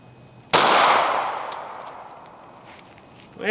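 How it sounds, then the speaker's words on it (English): A single loud, close gunshot from a Glock firing a .40 S&W Golden Saber 180-grain round through four layers of denim into ballistic gel, a sharp crack with a long fading tail, followed by a faint rustle. "Gonna shoot it through 4 layers of denim into the calibrated gel."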